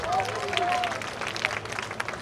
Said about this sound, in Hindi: जोरदार ताली हो जाए for Shama